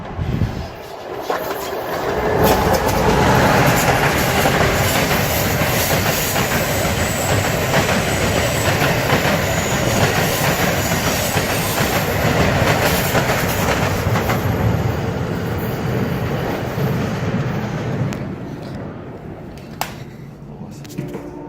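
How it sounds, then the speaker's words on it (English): An Amtrak Acela train passes the South Norwalk switch tower: a loud, close, sustained roar with clattering wheels and some squeal that lasts about twenty seconds before fading slightly at the end. "I'm gonna go video of the train."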